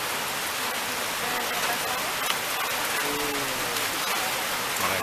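Steady rain hisses evenly, close and continuous, with a faint voice briefly audible underneath.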